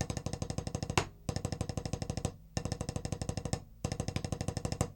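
Single stroke roll on a drum, alternating hands in a fast, even stream of strokes, played in four bursts separated by short pauses, close and fairly loud with no talking.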